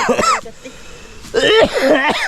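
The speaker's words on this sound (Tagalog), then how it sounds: "dumali na naman yung ubo" Coughing fits from a person outdoors while gathering coconuts for coconut milk, a few harsh bursts at the start and again near the end, with a quiet gap between them.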